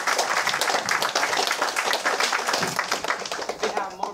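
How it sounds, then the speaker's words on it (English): An audience at a startup funding event applauds the speakers, a sustained patter of many hands clapping that stays loud and then tapers slightly, with a voice talking over it. "a big round of applause to the speakers"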